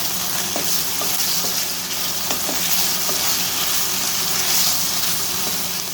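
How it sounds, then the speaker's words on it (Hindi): Chili sauce and soy sauce being stirred in a hot frying pan for spicy chicken macaroni, a steady close sizzle with soft scraping strokes of the spoon running throughout, no voices. "अच्छे से सारी चीज़ों को हम मिक्स कर लेंगे।"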